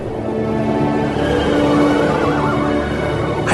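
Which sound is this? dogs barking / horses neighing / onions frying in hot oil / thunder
horses neighing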